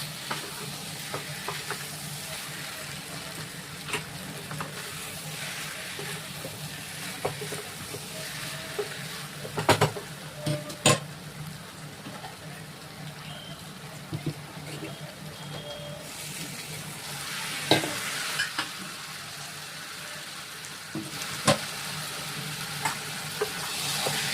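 Young jackfruit frying in a pan with ground shrimp, giving a steady low sizzle and occasional scraping stirs. A few sharper clinks of the utensil come through, and there is no talk.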